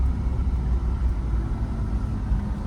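A car's engine hums low and steady as it drives along a narrow lane, a close, continuous rumble with no clear rise in pitch and no talk.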